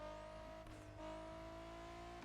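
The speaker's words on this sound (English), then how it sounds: "even though this is a V6, it is an amazing sounding car" A V6 sports car engine runs steadily on its own, giving a smooth, tonal drone with a brief dip and swell in pitch, heard quietly at a distance.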